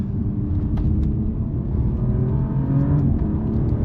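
An Alfa Romeo Giulia Quadrifoglio on the road, its engine giving a loud, steady low rumble and drone from inside the car, with tyre and road noise underneath.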